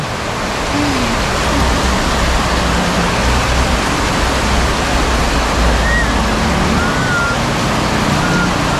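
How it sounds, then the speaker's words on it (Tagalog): Heavy rain pours in a dense, loud, unbroken hiss that fills the whole stretch, with no distinct voices over the downpour. "ang lakas ng ulan"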